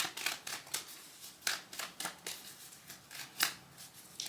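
Tarot cards being shuffled close up, a steady run of crisp papery riffles and slaps repeating about every half second, with no talking over them.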